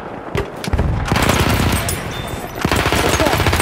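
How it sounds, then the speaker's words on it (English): Automatic fire from an enemy machine gun in a video game assault, bursts of rapid shots rattling almost continuously and loud and close for most of the stretch, with a brief lull before another heavy volley. "I'm looking, enemy machine gun"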